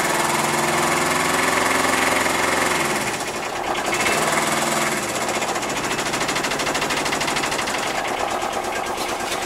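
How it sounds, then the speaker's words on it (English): Aixam van engine in freezing cold weather, starting up and running with a loud, steady mechanical clatter and hum that dips briefly then continues alone. "I turned the key, it started instantly."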